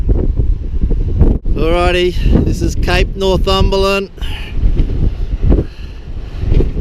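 Steady wind buffets the microphone outdoors on the coast near Mount Gambier, South Australia, rumbling and gusting beneath a person speaking briefly.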